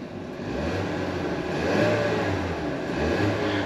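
A 2023 Ford Maverick XLT FX4 pickup's 2.0L turbo engine running and being revved, a mid-pitched engine hum that swells and eases in a few blips with a faint whirring, heard up close without talk.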